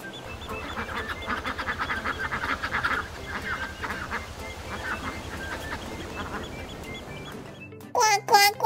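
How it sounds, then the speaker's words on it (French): A toy duck quacks in rapid repeated honking bursts, a busy buzzy rhythm that fades out before a voice speaks at the end. "C'est un canard."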